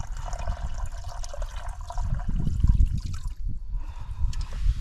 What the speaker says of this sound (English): Just filling the super solar shower.